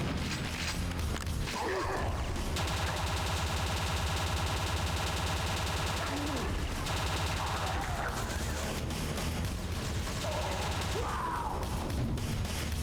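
ETF rifle fire in Quake 2: Ground Zero, a dense, sustained rattling burst of rapid shots over a constant loud game backdrop, with short whooshes and impacts around it.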